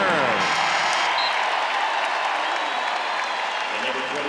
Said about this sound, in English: is giving her a well-deserved standing ovation